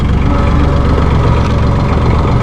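A 2011 Massey Ferguson 1635 hydrostat compact tractor engine runs steadily up close, a loud, even low diesel idle with constant vibration and no talk.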